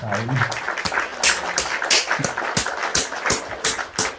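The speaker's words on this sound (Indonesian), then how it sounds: "Saya kasih tepuk tangan dulu." A few people clap in slow, evenly spaced bursts at a church talk, marking a correct answer with sharp, distinct claps repeated at a steady rhythm.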